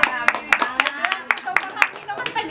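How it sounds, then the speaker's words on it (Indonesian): A small audience at a product demonstration claps in a loose, rhythmic burst of separate hand claps, close and fairly loud, with a voice speaking over it. "Tepuk tangan dulu dong buat Tepuk tangan."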